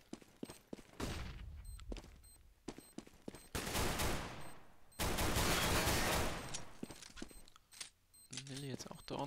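Counter-Strike gunfire on de_inferno comes in sharp single shots and sustained automatic bursts, loud and close, scattered across a tense round, with a commentator's voice partly over it.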